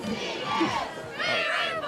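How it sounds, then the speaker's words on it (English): Crowd at a high school football game between Ouachita Christian and General Trass, cheering and shouting in a broad steady roar, near and loud, with a brief lull before swelling again. "Crowd's into it."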